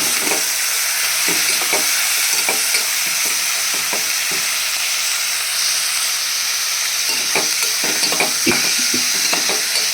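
Onions fry in a pan with salt for a Telugu puri curry, giving a continuous loud sizzle with frequent scraping and stirring clatters close by.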